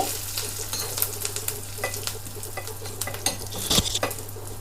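Hot oil sizzles and crackles steadily as spices and curry leaves fry for a tempering, with scattered pops and clinks of a utensil against the pan.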